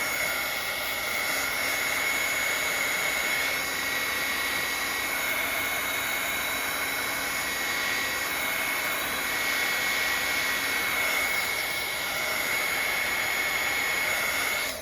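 A dryer blows on a thick, freshly worked Bible journal page, producing a steady, close whine and rushing airflow that holds nearly constant from start to finish with no voices.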